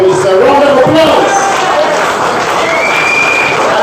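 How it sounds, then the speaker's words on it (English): A crowd at the Castries East party's annual general meeting in St. Lucia gives the Prime Minister a loud, steady round of applause, with cheering voices mixed in. "I want you from Castries East to give our political leader, Prime Minister, a round of applause."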